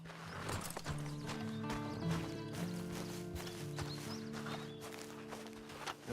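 Horse hooves clip-clop in the video game Red Dead Redemption 2, a steady walking rhythm under a low tonal game hum, with a neigh early on and no speech.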